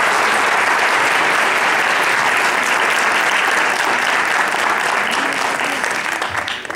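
Audience at a music school concert in a cultural hall applauds in a dense, sustained wash of clapping that holds steady for several seconds before starting to thin out at the end.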